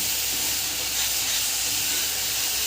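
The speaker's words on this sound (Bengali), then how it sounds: "এটাকে আমি বেশ কিছু ধরে ভাজবো" Tomato and ginger paste frying in a pan, giving a dense, even hiss and sizzle up close that runs unbroken for a few seconds without any voices.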